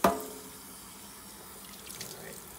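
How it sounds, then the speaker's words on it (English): Tap water runs and splashes as a copper-top hummingbird feeder is rinsed under a faucet, with a sharp initial splash and then a quiet steady flow, no talking. "Oh, I'll just give this a quick rinse."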